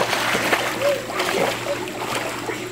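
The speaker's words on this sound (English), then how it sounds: "Good cannonball." A child's cannonball jump into a swimming pool sends up a loud, close splash that settles into sloshing water, with voices talking over it.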